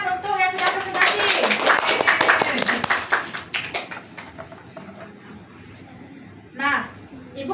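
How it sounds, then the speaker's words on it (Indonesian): Classroom of children clapping for classmates who presented, a dense burst of hand claps over the first few seconds that thins out, with a teacher and kids talking throughout. "tepuk tangan untuk yang sudah presentasi"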